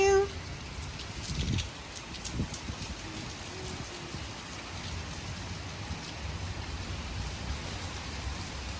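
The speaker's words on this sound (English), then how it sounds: "It's raining. Do you feel the wind blow the rain on you?" Rain falls outdoors and is blown by gusting wind, a soft steady wash of drops with a brief louder swell at the start, fairly faint and continuous.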